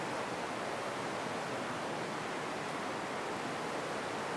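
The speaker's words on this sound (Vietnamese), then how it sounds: "Đây cái dòng suối đây các bạn ạ." A stream flowing inside Nguom Ngao cave in Cao Bang, heard as a steady, dense broadband rush of water that stays even and continuous throughout, with no voices over it.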